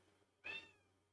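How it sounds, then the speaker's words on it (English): A single short cat meow, faint and somewhat distant, in an otherwise quiet indoor room. "Excuse the cat interruption."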